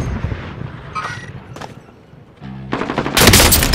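Hostile gunfire in the Call of Duty: Modern Warfare video game, with scattered shots early on building into a loud, dense burst of rapid automatic fire near the end.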